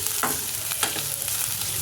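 Onions sauté in a pan for a kadalai sambar, a dense close sizzle with a couple of brief spatula scrapes and no voices.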